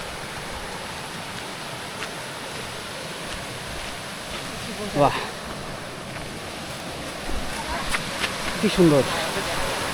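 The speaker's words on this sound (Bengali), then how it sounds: "পানি নেমে আসতেছে কিভাবে" Water at Nafakhum waterfall rushes down in a continuous broad roar, heard from nearby with brief exclamations from people over it.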